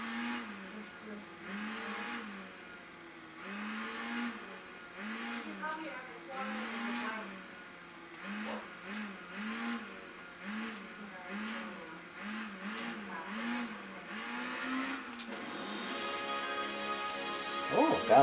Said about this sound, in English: this bike accelerates pretty fast, so we're going to need to watch the throttle